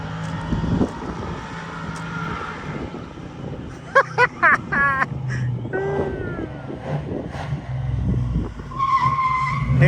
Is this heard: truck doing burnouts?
yes